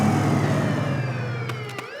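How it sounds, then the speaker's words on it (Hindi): Police siren in a cartoon street scene, a loud rising-and-falling wail over a low rumble of traffic, with a couple of brief sharp bursts near the end. "ये तो पुलिस का सायरन है"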